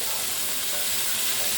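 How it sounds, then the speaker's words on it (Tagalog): Shrimp fry in a hot pan with a steady, dense sizzle that fills the short stretch without a break, close and loud. "iluluto na natin ang ating shrimp"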